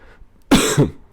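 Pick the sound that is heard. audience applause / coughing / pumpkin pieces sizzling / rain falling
coughing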